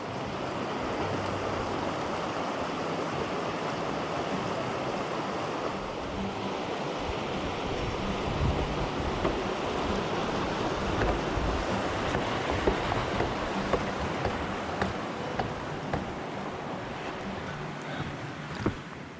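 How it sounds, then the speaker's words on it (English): Flowing water of Paradise Creek beside a mountain trail near Lake Louise, a steady broadband rush heard close and constant, with faint wind noise and no talking. "The sound of flowing water grows more distinct, guiding you toward a bridge that spans the waters of Paradise Creek"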